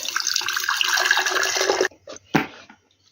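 Brine pours out of a jar of marinated tomatoes in a steady close splashing stream that abruptly stops, followed by a few short trickles and a final splash.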